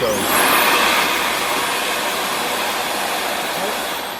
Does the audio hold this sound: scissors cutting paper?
no